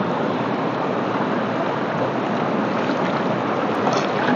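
Water rushes steadily at Ripple Waterfalls in Kerala, a dense, unbroken roar that stays loud and even throughout, with no voices.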